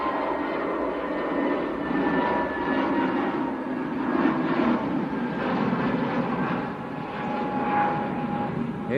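An EasyJet airliner bound for Marrakesh, departing Manchester Airport, sends out a constant broad jet rumble with a faint high engine whine, moderately loud and unbroken, no voices.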